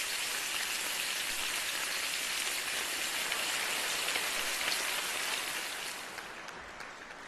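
Bacon sizzles and crackles in a pan in a dense, steady hiss that sounds like heavy rain. It stays loud and even throughout and thins slightly at the end. No voices are heard.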